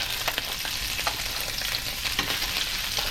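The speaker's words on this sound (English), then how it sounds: "They're going to be rare in the middle, pretty much raw, but the outside is going to have a nice sear to it" Fish fillets searing in a hot pan after a deep-sea Gulf fishing trip give a steady, loud broadband sizzle with scattered crackles and small pops throughout, with no voices.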